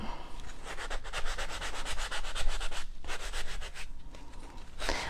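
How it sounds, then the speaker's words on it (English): A wooden spoon is hand-sanded in quick, rhythmic back-and-forth strokes, a close, steady scratchy rasping with brief pauses and no talking. "right around where you would hold it. I'm going to kind of sand back a little bit"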